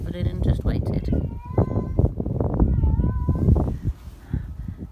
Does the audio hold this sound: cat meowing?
yes